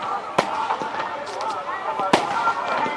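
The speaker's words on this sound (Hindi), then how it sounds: "यहाँ पर अब जो आतिशबाजी का आयोजन है वो प्रारंभ कर दिया गया है" Dussehra (Vijayadashami) fireworks display in Bhopal: two sharp, loud bangs at separate moments punch through a steady crackling din, with crowd voices and talk running underneath throughout.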